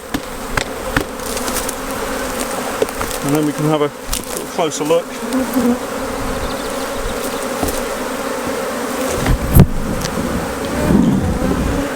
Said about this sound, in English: So what I'm going to do is just gently shake these bees off, and I do that just by tapping the crown board